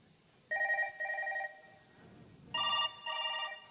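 A telephone rings on the line during a call, with two clear double-ring bursts separated by a short pause and heard against a quiet background.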